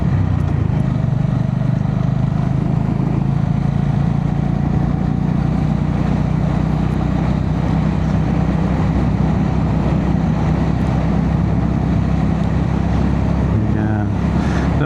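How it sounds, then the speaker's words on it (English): A motorbike engine runs smoothly while riding, with a constant loud, low drone mixed with wind rush over the whole stretch, and a voice talks over it. "The bike's starting to run a lot better now."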